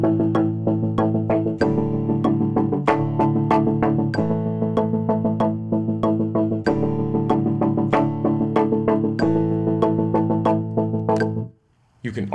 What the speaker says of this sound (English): Let's set it back to straight 16th note timing and listen to what that sounds like.